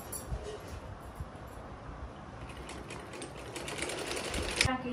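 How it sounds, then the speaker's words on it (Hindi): A sewing machine stitching a black salwar, running in quick rhythmic bursts of needle clatter that grow busier toward the end, with someone talking over it. "पहले पहले शलवार सिलाई कर रही हूँ ब्लैक सूट की"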